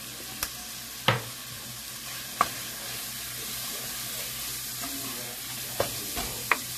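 Low-fat Italian sausage browning in olive oil in a pot, a continuous frying sizzle with a few scattered clacks as a spoon stirs the meat, heard up close without talk.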